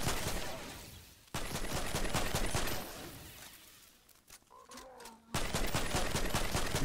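Rapid automatic fire from the Primal Rifle in Fortnite Save the World crackles in dense bursts, cutting out briefly twice before resuming at full intensity, with no voices over it.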